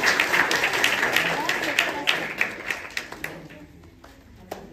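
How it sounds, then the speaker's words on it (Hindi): At a school results ceremony, an audience claps for top-ranked students. The dense applause swells early, then thins into scattered individual claps and fades, with a voice talking over it. "एक बार क्लैपिंग कीजिए।"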